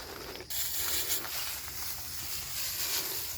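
Pesticide sprayer misting cacao trees on a farm near Davao City, a steady broadband hiss that starts abruptly and runs continuously, close and loud, with no talk.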